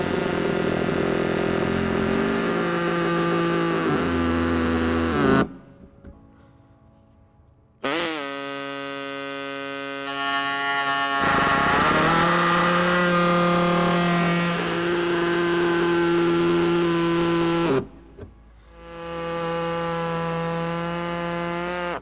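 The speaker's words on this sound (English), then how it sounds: "I'm going to be using the air tube with a cutter." Pneumatic air cutter slicing through the plastic bumper fascia of a 2014 Subaru Forester, a loud close high-pitched whine with shifting pitch as it bites, stopping twice briefly before resuming.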